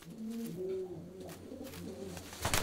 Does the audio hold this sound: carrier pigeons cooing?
yes